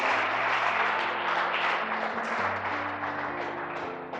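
Church congregation applauding loudly and steadily throughout, a dense wash of clapping that tapers slightly at the end, with sustained organ or keyboard tones underneath.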